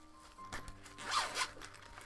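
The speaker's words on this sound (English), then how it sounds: "if you undo that zip" A zipper is drawn open on an expanding pencil case in one close, rasping pull that swells and fades over about a second, with no speech.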